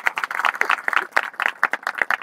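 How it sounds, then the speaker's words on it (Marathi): Hands clap for Hanuman at a temple groundbreaking ceremony in Thangaon, Sinnar, a short burst of fairly sparse, uneven claps from a small crowd, close and fairly loud. "एकदा हनुमंत्रासाठी जोरात टाळ्या व्हायला पाहिजे."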